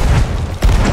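Heavy cannon fire during a ship battle in the video game Sea of Thieves, two deep booming blasts about half a second apart, loud and close with no talking.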